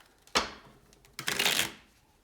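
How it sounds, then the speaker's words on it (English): Two quick riffle shuffles of a deck of cards, sharp and close, the second burst longer and fuller than the first. "Two more shuffles."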